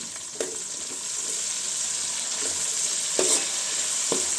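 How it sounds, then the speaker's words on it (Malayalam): Curry leaves sizzle steadily in hot oil for a ginger-mango pickle while a spoon stirs them, scraping the pan in a few distinct strokes. No one speaks. "കരിയാപ്പിലയും കൂടെ ഇട്ട് ആൾ തന്നെ ഇളക്കി അങ്ങ് മൂപ്പിച്ചിങ്ങെടുക്കും"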